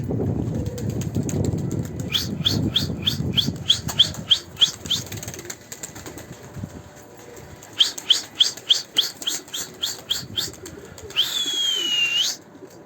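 Pet pigeons in a coop give a long run of sharp, rhythmic wing flaps in two bursts, with soft low cooing underneath at the start and a close rustle near the end.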